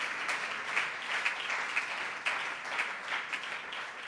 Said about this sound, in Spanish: Fuerte ese aplauso para este Dios que triunfó sobre la muerte y el diablo